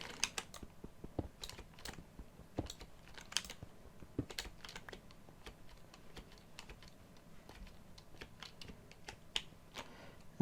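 Skeleton bones clack in Minecraft as a run of dry, quick, faint clicks scattered irregularly throughout, with no voices.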